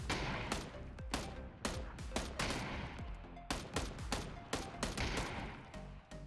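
Gunfire in a PUBG video game gunfight: rapid bursts of loud shots in quick irregular clusters, sharp and close, continuing throughout without voices.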